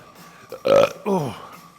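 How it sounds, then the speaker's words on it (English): A short, loud, deep burp rings out close by in a gym during leg day, with faint background noise around it. "What was that burp?"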